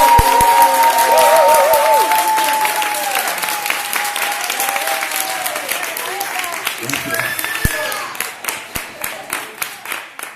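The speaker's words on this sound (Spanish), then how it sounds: "Así que, por favor, un aplauso por Arrate Hidalgo" An audience at a science-fiction convention panel (HispaCon 2017) breaks into loud, sustained applause, fading to scattered claps toward the end, with a voice briefly audible at the start.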